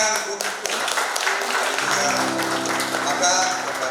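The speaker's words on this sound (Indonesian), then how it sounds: "Berikan tepuk tangan untuk" Wedding guests clap for a newly married couple, a steady crowd applause with music playing underneath and voices over it.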